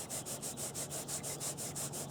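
Cloth dampened with lacquer thinner rubbed lightly over the plastic seat cover of a 2002 Honda XR100, a soft rhythmic scrubbing repeated about ten times in steady strokes, close and fairly quiet with no talking.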